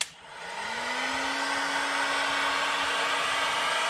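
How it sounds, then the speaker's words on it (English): Heat gun blasting hot air onto a boat's cluster fascia, a steady loud broadband whoosh with a rising motor whine that settles into a constant tone, close and continuous. "heat gun."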